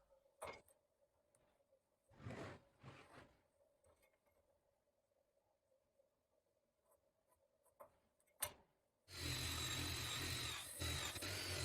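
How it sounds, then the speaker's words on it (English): A 12 mm drill bit bores a hole in a wooden arch for a support pin, heard as a quiet start with a few brief bursts and knocks, then a loud, steady power-drill whir near the end. "With a 12 millimeters drill bit, I make the hole for the support pin."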